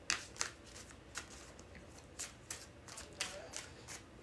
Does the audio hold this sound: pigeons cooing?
no